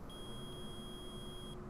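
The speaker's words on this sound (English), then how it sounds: "I permit the use of the metal detector." A metal detector in the Phoenix Wright courtroom game gives one steady, high electronic beep held for about a second and a half over a faint background hum.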